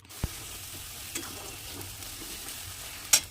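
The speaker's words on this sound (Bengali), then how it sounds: "এটাকে আবার সুন্দরভাবে মশলাটাকে ভালোভাবে কষিয়ে নেব।" Spice paste for mutton kasha frying in a pan and being stirred, with a soft continuous sizzle broken by a few sharp scrapes and clicks of the spoon.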